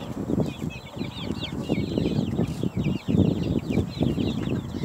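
Second-generation Production Red hens cluck and chatter close by in a backyard flock, with low repeated clucks layered under busy higher chirping from young chicks, continuous and fairly loud.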